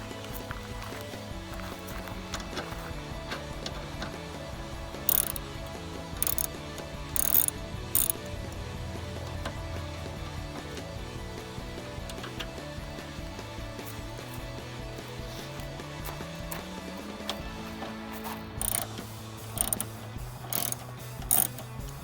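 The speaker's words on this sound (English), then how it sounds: "now I am going to use a 10mm socket to unscrew these 2 front bumper bolts here and here." A 10mm socket ratchet working loose the front bumper bolts on a 2005-2009 Mustang, producing brief clicking bursts at intervals over a steady background hum, with no talking.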